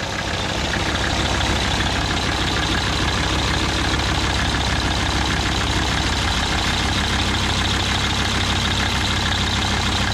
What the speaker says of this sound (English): This is how you improve on a Chevrolet pickup truck. You put a diesel engine in it. Out of a Mercedes